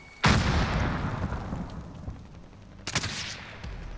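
Gunfire in a Warzone battle: a loud close burst of shots opens, fades into a rolling echoing tail, then a second volley of several rapid shots follows nearer the end, with no voices over it.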